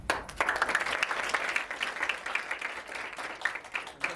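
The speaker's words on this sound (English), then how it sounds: "Let's wish each other good luck with a big clap" A group of dancers in a choreography training session clap together for good luck, a dense burst of applause with many overlapping hand claps, fairly close and sustained for about four seconds without speech.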